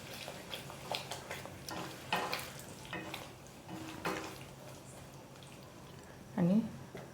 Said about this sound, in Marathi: आता मी शॅलो फ्राय केलेलं हे पनीर सगळं टाकून घेत आहे